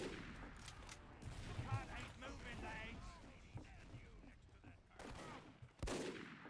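Rapid bursts of gunfire from the video game Team Fortress 2 crackle through busy in-game sound effects, with several sharp shots close by and a voice partly audible underneath.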